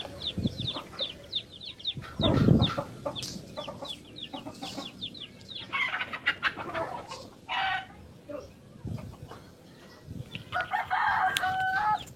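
Chickens cluck and a rooster crows repeatedly close by during a live religious study session, the calls loud and busy across the whole stretch with a short burst of talk mixed in.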